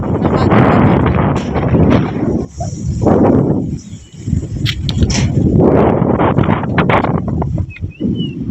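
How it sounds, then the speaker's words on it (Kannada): Gusty wind buffets the microphone in heavy, rumbling waves that rise and fall, with brief lulls between gusts. "ಗಾಳಿ ಸೌಂಡ್ ನೋಡ್ರಿ"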